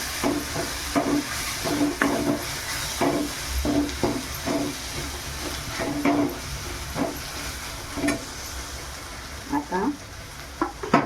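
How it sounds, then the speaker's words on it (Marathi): Ginger garlic paste sautés in hot oil for a brinjal and potato curry, a continuous crackling sizzle with rhythmic stirring scrapes, close and moderately loud, while someone talks over it. "आता ही आलं लसूणची पेस्ट 1 चमचा टाकायची. चांगली तेलात अशी परतायची."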